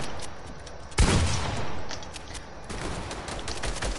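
Pump shotgun blasts in a video game: a heavy boom about a second in, then a dense run of rapid gunfire and further shots, loud and close throughout.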